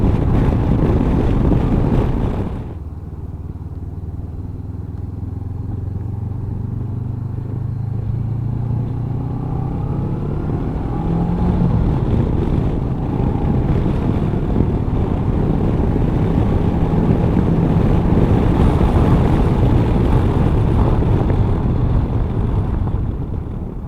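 A 2019 Honda CB500X motorcycle cruising along a motorway, its steady engine drone blended with loud, continuous wind rush across the microphone, with no speech.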